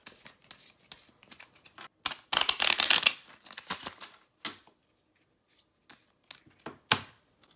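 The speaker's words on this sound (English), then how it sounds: "Go ahead and shuffle the cards." Cards being shuffled close up, a loud riffle in the middle followed by several shorter bursts and light handling noises, with no talking.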